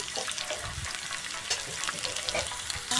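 Spices with green chillies and salt fry for a Foli fish and potato curry, crackling and sizzling steadily in an oiled pan. The cooking is close, with stirring scrapes and a sharper burst at the end.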